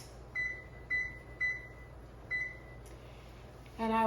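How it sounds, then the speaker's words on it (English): A kitchen timer gives four short, clear electronic beeps at an uneven pace while pork chops go into the oven, over a low steady kitchen hum, and a brighter clatter of tones follows at the end. "I'm going to set my timer for 13 minutes."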